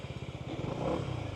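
A Daytona Virtus 125 (Longjia XDV 125) scooter engine turns over and restarts, a rapid pulsing chug rising into a low rumbling idle, close and moderately loud with no speech.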